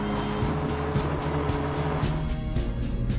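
A Ferrari sports car at an Italian car meeting, its engine a loud, steady drone with repeated swells and passing surges, close by and with no speech.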